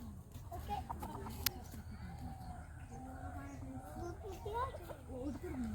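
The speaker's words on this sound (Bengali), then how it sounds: "এ মুরগি ধরা যাবে নি," Chickens cluck and squawk in agitated bursts while being chased around a yard, mixed with excited talking and shouting from people trying to catch them.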